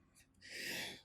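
A single human sneeze, close and fairly loud: a short sharp intake of breath followed by a forceful hissing burst, with no talking.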